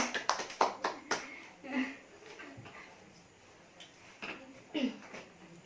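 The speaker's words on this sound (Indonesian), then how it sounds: "Beri tepuk tangan buat teman kalian." Students in a classroom applaud a classmate after a presentation, a short burst of quick hand claps at the start that fades as voices and room chatter take over.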